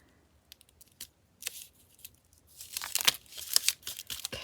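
Scissors trimming a paper flash card for a Christmas journal, starting as a few sparse, light snips and building into dense, close crunching cuts and crinkling paper.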